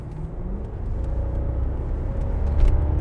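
A supercharged BMW Alpina B7 pulls hard at full throttle on the German Autobahn, a deep, swelling engine rumble building steadily over about three seconds, with no voices.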